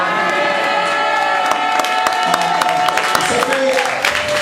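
A church congregation cheers and acclaims loudly and continuously, with voices, shouts and scattered claps forming a dense roar that carries through the whole stretch.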